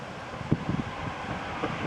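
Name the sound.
strong wind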